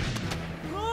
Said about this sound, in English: We're actually gonna yeet bombs all in there.